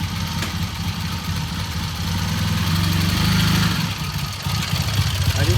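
A 1978 Triumph motorcycle engine with a rattle, revved for a gentle hole shot: steady mid-low engine rumble that swells briefly in the middle, then settles back toward idle, heard close with no talking.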